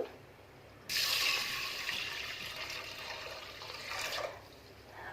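Water poured into a pressure cooker holding lentils, a sudden rushing splash that runs steadily for about three seconds before tapering off, close and alone.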